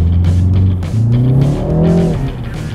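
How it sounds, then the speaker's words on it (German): BMW 3 Series four-cylinder engine revving up close, a loud, deep drone that rises and falls in pitch twice over a few seconds, with no one talking. "Von 4 Zylinder, das ist schon ein geiler Ton."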